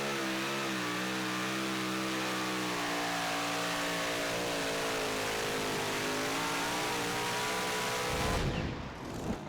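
A super modified two-wheel-drive pulling truck at a Saluda, South Carolina pulling event runs at full throttle, its engine holding a loud, sustained high-revving roar with steady harmonics before abruptly cutting off near the end.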